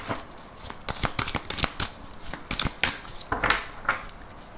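Amethyst Love Oracle cards are shuffled by hand in a rapid run of crisp riffling slaps and papery flutters, close and clear, with no talking.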